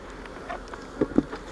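Honey bees buzz faintly inside a hive box, a soft continuous hum with a few brief louder buzzes from individual bees passing close.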